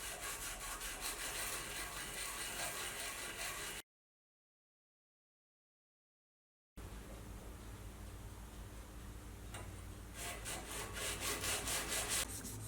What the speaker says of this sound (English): start polishing.